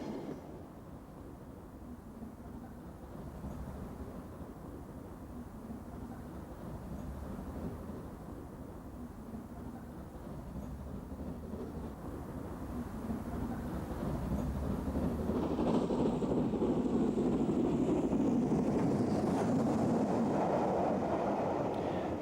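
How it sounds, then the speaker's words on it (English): An LMS 2P steam locomotive piloting a Black 5 emerges from Coombe Down Tunnel near Bath in the 1950s, working hard as a low, dense rumble that swells steadily louder toward the end. "This train is emerging from Coombe Down Tunnel near Bath, with an LMS 2P piloting a Black 5."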